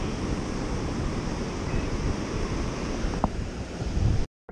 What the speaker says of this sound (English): Big waves, nasty.